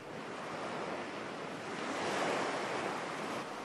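Steady sea waves wash onto the shore in a continuous broad roar, swelling slightly midway, with no voices.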